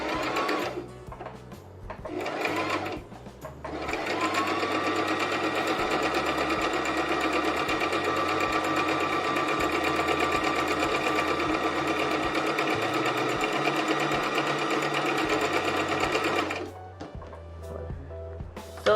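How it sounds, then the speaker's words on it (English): A sewing machine stitches sequin curtains, starting with a couple of short bursts, then running steadily and close up for about thirteen seconds before stopping. "And then you're going to just start stitching all the way to the end."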